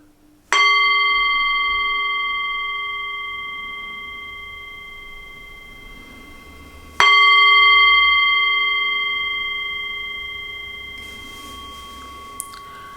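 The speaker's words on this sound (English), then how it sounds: "I'm going to use a little bell sound like this" A small bell is struck twice, about six seconds apart, each strike ringing out in a clear, pure tone that fades slowly, with no talk.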